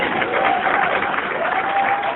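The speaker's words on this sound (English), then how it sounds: "if everybody will just give a hand clap up for where God has brought you from." A church congregation claps hands together in praise, a dense continuous roar of clapping at fairly loud, even volume with no talk over it.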